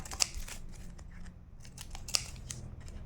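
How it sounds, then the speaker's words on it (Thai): Scissors snipping off excess ribbon from a folded-coin decoration craft, two sharp, crisp clicks about two seconds apart, close by, over faint background rustling with no speech. "ตัดริบบิ้นส่วนเกินออกค่ะ"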